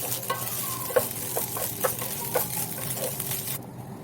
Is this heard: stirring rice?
yes